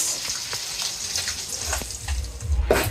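Fish frying in a pan with flat beans and potatoes, a steady close sizzle running throughout with a few brief clinks and a louder burst of crackling near the end.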